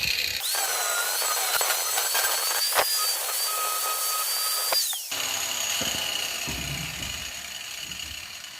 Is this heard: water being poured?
no